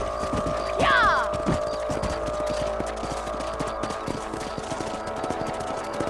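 Horse hooves clip-clop steadily while riding in the Red Dead Redemption video game, the rhythmic footfalls sitting under a faint hum and a brief whinny-like sweep near the start.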